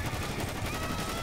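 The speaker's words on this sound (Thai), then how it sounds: "ยิงแม่ง" Rapid gunfire in GTA V during a gang shootout against a rival purple gang, a dense continuous burst of shots under a busy game mix.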